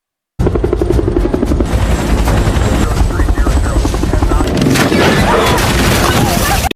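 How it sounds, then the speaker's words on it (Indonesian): A loud helicopter drones continuously nearby, its rotor chopping in a rapid pulse over a heavy roaring engine. "helikopter mau tidak mau harus terbang dekat dengan bebatuan"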